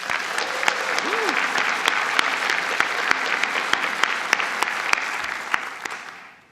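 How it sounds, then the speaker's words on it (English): A large audience at a college convocation claps continuously in a sustained round of applause, loud and even throughout, fading out at the end. "Give yourselves a round of applause."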